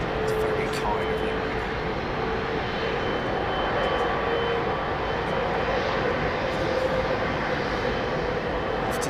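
Jet airliner departing London Heathrow for JFK, a steady broadband engine roar that holds at high level for the whole stretch without pause, loud and continuous.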